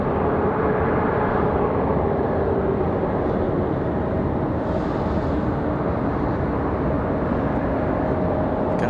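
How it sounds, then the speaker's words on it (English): American Airlines A321 airliner departing Raleigh-Durham airport, a loud, steady broadband jet roar that holds throughout without pause. "our American off to Charlotte. be our next departure, the A321."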